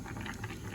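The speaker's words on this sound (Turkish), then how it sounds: "Tavuklarımız kaynıyor." Soft, steady bubbling of chicken simmering in a pot of water, a low continuous burble without distinct pops.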